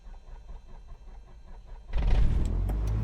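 Light aircraft piston engine starting in Microsoft Flight Simulator 2024: quiet cabin hum, then the engine catches abruptly and settles into a loud, steady idle rumble.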